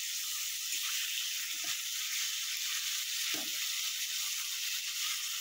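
Jujube (kul) fruits sizzle in a pan with softened tomato and spices for a pickle, giving a steady, quiet, even hiss with a few faint stirring clicks and no voices.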